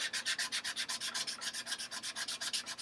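Sandpaper rubbing back and forth on a First Act ME5008 guitar on a workbench, a steady run of about twenty quick, even strokes, close and loud with no talking.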